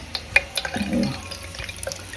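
A ground mixture for Konkani kurlya kalan is strained through a small tea strainer, giving soft trickling and dripping of liquid with a few light taps. It sounds close and quiet.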